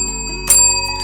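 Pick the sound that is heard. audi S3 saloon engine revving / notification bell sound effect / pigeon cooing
notification bell sound effect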